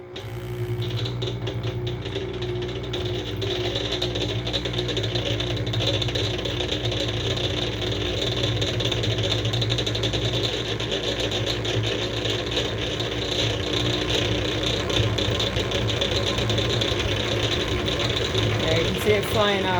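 A honey extractor spinner whirs steadily as it spins honey frames, a continuous close mechanical hum and rattle lasting about twenty seconds with no break.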